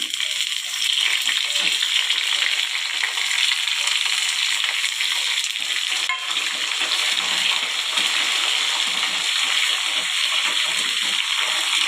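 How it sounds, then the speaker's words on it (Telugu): Chillies and curry leaves frying in hot oil for a brinjal dish, a steady, dense sizzle with a watery hiss that fills the whole stretch evenly, close and fairly loud, with no talking over it. "మిరపకాయలు కూడా ఒక మాట వేయించుకుందాం కరివేపాకు"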